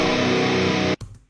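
Distorted electric guitar played as a single thin layer without thickening or sustain tracks, a dense buzzing chord held loud for about a second before cutting off abruptly, followed by a short choked tail.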